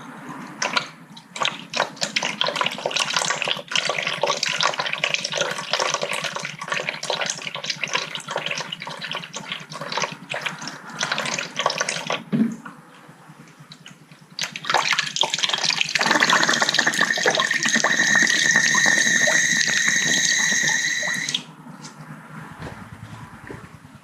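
Water flushes steadily out of the heater box of an Austin A30, a continuous close splashing rush that briefly dips in the middle and then surges again with a brighter hiss before stopping.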